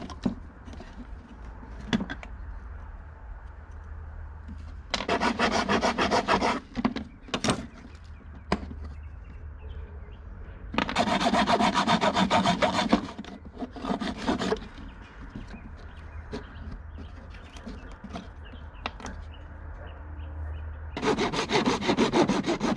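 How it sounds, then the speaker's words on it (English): A reciprocating saw blade cuts off plastic parts from a 1990–93 Honda Accord climate control unit in several loud rasping bursts, separated by quieter pauses with faint handling. "I'm using my little, Sawzall blade, and I'm literally just going to saw this off nice and clean and as intact as possible"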